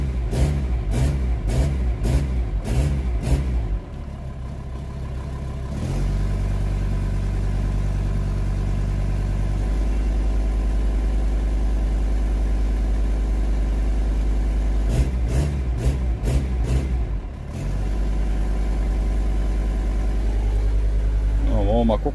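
A close Volkswagen T5 van engine idles roughly for a long stretch, with sharp rhythmic clatters and brief revs at the start and around the middle.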